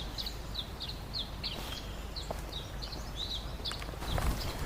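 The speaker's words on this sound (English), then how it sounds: "And I'm hearing more birds." High, repeated chirping bird song over a steady outdoor hiss, with a few faint knocks and rustles nearby.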